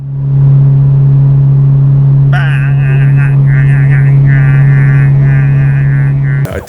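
Car engine in a racing video game holding a steady, droning mid-RPM hum that grows busier and rougher partway through, loud and continuous, with a person talking over it.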